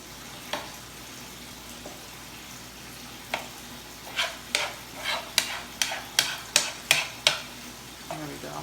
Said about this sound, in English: Make sure you watch that rice and turn it down and stir it continuously